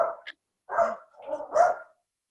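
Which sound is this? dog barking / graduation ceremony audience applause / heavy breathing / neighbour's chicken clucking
dog barking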